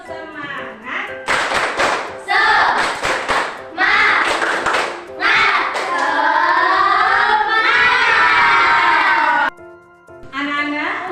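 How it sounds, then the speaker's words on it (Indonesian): A class of young students stand and do a patterned cheer clap, sharp clapping bursts mixed with loud chanting and shouting voices nearby, ending in a brief pause before more claps. "Yuk, tepuk semangat."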